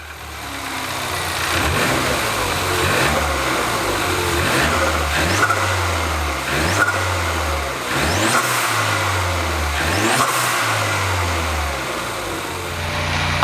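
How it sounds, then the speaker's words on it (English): A turbocharged car engine runs loudly nearby, revving up and down repeatedly in rising and falling surges over a steady idle rumble. "we'll be able to turn the car on and show you what this sounds like"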